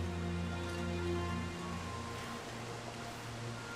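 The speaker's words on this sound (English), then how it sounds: "so it's sudden and furious downpour, but no staying power" A sudden, furious rain downpour in The Long Dark survival game hisses as a dense, steady wash of noise, fairly quiet and continuous, with a low hum beneath.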